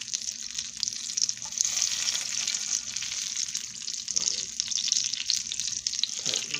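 Southern sweet potato pies frying in hot oil give a steady, close sizzle with a dense crackling hiss that holds all the way through, no one talking.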